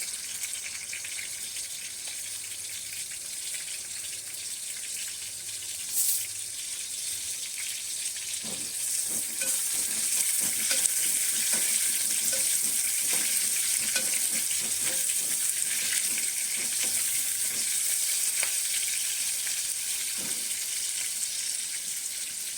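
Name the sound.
chillies and garlic frying in a pan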